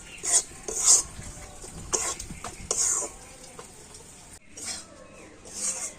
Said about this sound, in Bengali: তো একেবারে হালকা জাল দিয়ে ময়দাটাকে ভেজে নিতে হবে।